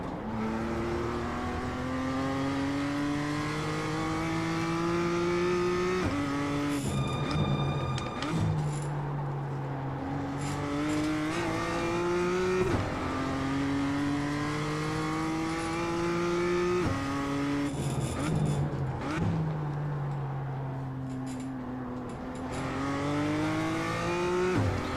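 Race car engine in the iRacing sim at Circuit de Lédenon, revving hard through repeated rising gear pulls, dropping sharply on downshifts and braking, with brief tire squeal, loud and continuous with no talk.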